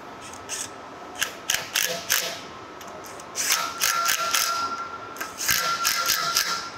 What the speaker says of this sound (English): Tighten both of these fittings on that block.